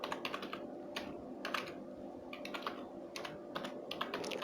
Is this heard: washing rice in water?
no